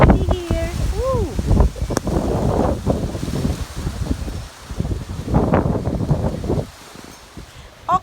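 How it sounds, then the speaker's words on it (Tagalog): Strong outdoor wind buffets the microphone with a steady low rumble across the whole span, while someone talks over it and a high whistle-like tone briefly cuts in near the start. "It's very windy."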